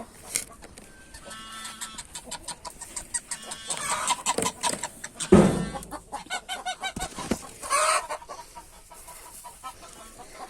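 Chickens cluck and squawk close by in a coop during egg collecting, a busy scatter of short calls with rustling and a few louder outbursts.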